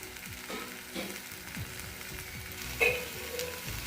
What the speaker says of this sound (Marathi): चवीनुसार मीठ टाकल्यानंतर मग भाजी मस्त परत मिक्स करून घ्यायची